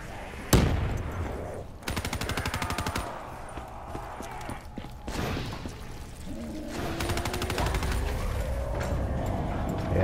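Rapid gunfire in Black Ops 3 Zombies on Nightmare mode, with bursts of automatic fire and single shots among mechanical clicks and reload clatter. It is loud and close, packed into dense rattling runs.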